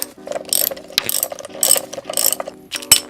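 A ratchet wrench works the 17 mm top nut of a Honda S2000 engine mount, a close, loud clicking ratchet in repeated strokes of several seconds, each burst of clicks followed by a short pause.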